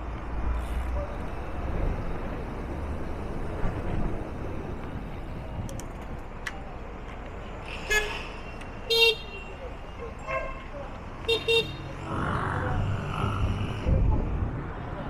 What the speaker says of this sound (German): Ganz wichtig hier bei jedem Gefährt ist, die Hupe, die muss funktionieren.